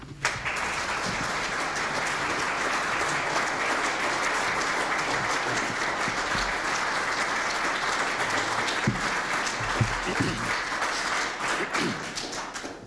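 A large audience gives sustained, dense applause welcoming John McManus, president of the John Birch Society, to the podium, a steady full clapping roar holding for the whole stretch.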